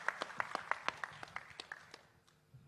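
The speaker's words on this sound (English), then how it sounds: "Give a big applause for him." Audience applause at a national seafood exports workshop: a burst of sharp, rhythmic hand claps that thins out and fades over a couple of seconds.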